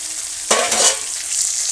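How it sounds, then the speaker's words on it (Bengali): Catla fish fries in hot oil in a village kitchen, a steady close sizzle that swells into a louder crackling burst as the pieces are stirred. "মাছটা আমার প্রায় ভাজা হয়ে গেছে"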